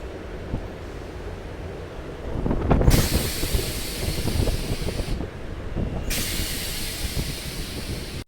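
A Katwa–Ahmadpur MEMU passenger train in West Bengal rumbles and clatters along the rails with a rushing hiss that swells loudly, briefly dips, then returns, with no talking.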